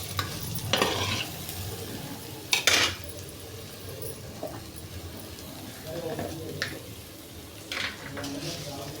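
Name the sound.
stirring carrot chutney with tomato pieces in a pan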